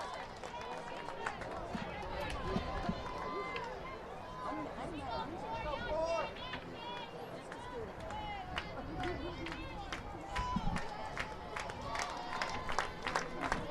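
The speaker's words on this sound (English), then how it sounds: "Crowd comes to life here a little bit early." Softball crowd at an Oklahoma versus Utah game stirring into steady cheering and scattered applause, a broad roar of many voices rising through the clip, with an announcer's voice speaking over it.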